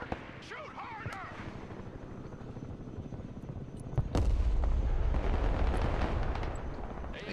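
Gunfire and heavy weapon blasts from the military strategy video game Broken Arrow, with scattered shots followed by a loud, sustained rumbling barrage.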